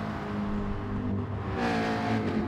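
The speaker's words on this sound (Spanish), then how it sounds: "se escucha el motor" Race car engine in Gran Turismo Sport at Brands Hatch, a continuous droning motor held at steady pitch that swells louder near the end, with no one talking over it.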